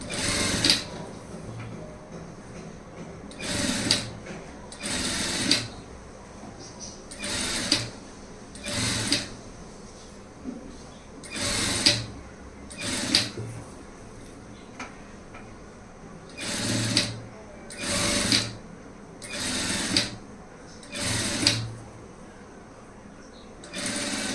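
A sewing machine stitches thread piping in repeated bursts of motor whirring, about a dozen short runs separated by brief pauses, close and clear with no talking.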